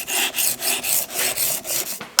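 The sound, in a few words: knife being sharpened on a sharpening stone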